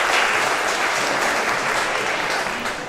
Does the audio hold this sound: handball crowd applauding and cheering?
yes